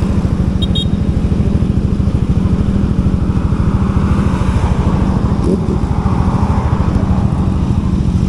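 A Vespa Sprint S 150 scooter engine revs hard and steadily, a buzzing motor drone running continuously at close range with a slight rise in pitch partway through.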